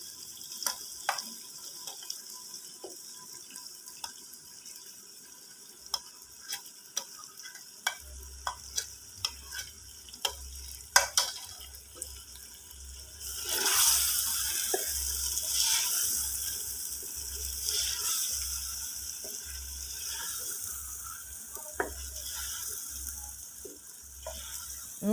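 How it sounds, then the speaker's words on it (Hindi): Capsicum stirred into frying chicken in a pan gives a steady low sizzle, with a spoon scraping and clinking at intervals, and the frying grows louder partway through. "अब बारी है शिमला मिर्च डालने की।"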